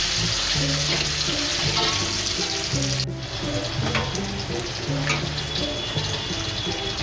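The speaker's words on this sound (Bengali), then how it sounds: "লাউ চিংড়িতে একটু রসুন ফোড়ন দিলে ভালো লাগে" Garlic and green chillies sizzle and fry steadily in hot oil for a bottle gourd and prawn curry, a loud continuous crackle with occasional stirring and clinks, no talking.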